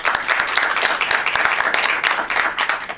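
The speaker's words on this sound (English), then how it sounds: "Let's welcome her with an applause." A seminar audience claps to welcome a speaker, close and lively, with individual hand claps distinct within a dense, steady burst of applause lasting throughout.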